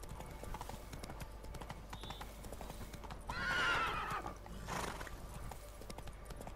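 A horse in the video game The Witcher 3 clip-clops along with steady hoofbeats, letting out a loud whinny midway, with a faint voice in the background.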